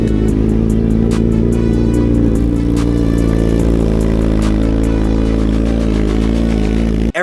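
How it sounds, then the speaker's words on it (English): A 2022 Suzuki Hayabusa Gen 3 with an aftermarket intake and full exhaust system runs hard on a dyno, a loud, sustained, close-up engine roar with clattering ticks that cuts off abruptly at the end. "This 2022 Gen 3 Suzuki Hayabusa with an intake and full system is on 188 on pump gas."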